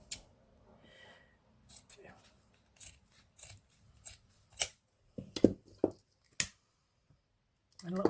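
Scissors trim the ends of 3-inch ribbon for a hair bow, a scattered series of sharp close snips and rustles with quiet gaps between them.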